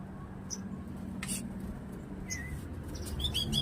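A house sparrow gives a few brief, thin chirps, some in quick pairs, faint and scattered over steady low background noise with no talking.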